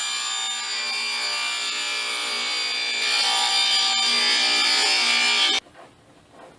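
A wooden back panel being cut to size by hand, close and steady rasping saw strokes that grow louder midway and then stop abruptly, leaving near quiet.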